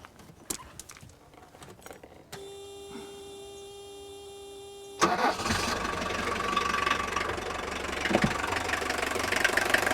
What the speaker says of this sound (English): The clatter of an old 4-cylinder, normally aspirated diesel engine by Mercedes-Benz